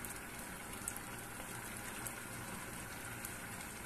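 Chicken in cooking cream simmering in a pan, a steady close bubbling and sizzling with no talk.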